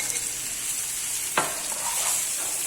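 Boiled potato pieces fry in a pan for Lahori chole, giving a steady loud sizzle with one brief stirring scrape and no voices.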